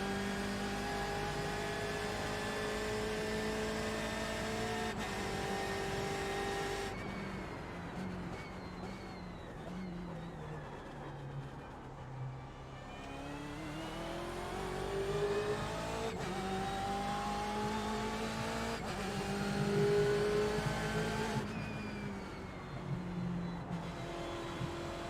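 A BMW race car in the iRacing sim on a flying lap at Summit Point, its engine droning steadily and rising and falling through gear changes, with occasional tire squeal, close and continuous with no talk.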